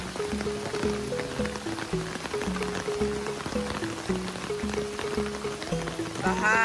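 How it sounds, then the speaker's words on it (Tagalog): Heavy rain falls over flooded rice fields, a steady, dense patter running throughout at moderate loudness, joined near the end by some brief tonal sounds. "Sobrang lakas ng ulan."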